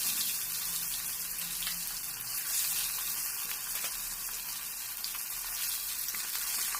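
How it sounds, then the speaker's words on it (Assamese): Steady, dense sizzling and crackling of magur and shol fish frying in hot oil in a kadai, continuous and fairly close, with no voices. "কেৰাহী তেল গৰম হ'ল, এতিয়া মই মাছখিনি দি দিলোঁ।"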